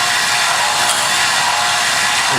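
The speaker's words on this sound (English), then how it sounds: "when the drill gets down near the end of its stroke, you can hear almost like a squealing sound" A drill boring into wood for a wooden handle, near the end of its stroke, giving a loud, continuous, harsh grinding whine that holds steady and close throughout, with no talking over it.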